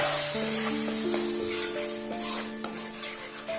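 Steady sizzling of a ground masala paste for paneer tikka masala gravy in a pan, with faint scraping as it is stirred, close and continuous, with no voices.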